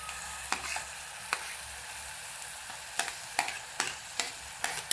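Onion frying together with prawn masala in a pan for a Malvani-style Konkani prawn curry: a steady close sizzle broken by sharp stirring scrapes roughly every half second to second, no voices.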